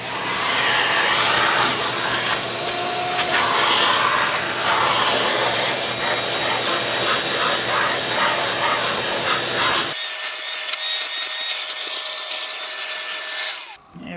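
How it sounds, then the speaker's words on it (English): A vacuum runs inside a Harmon pellet stove, a loud steady whoosh with rattling and scraping as the nozzle moves about, then the low rumble drops out near the end while a thinner hiss continues. "I like to just vacuum up inside here."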